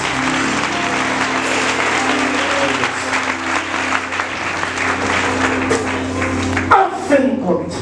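A church congregation applauds and cheers during a French-language sermon, steady loud clapping from a large crowd with voices mixed in, ending in a few scattered claps.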